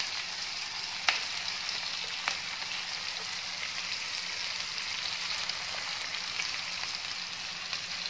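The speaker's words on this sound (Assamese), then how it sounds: "গোটেইখিনি মিক্স কৰি অকণমান সময় ভাজি ল'ম" Ginger and garlic sizzle steadily in hot oil in a pan, a constant dense crackle with a couple of sharper pops and no talking.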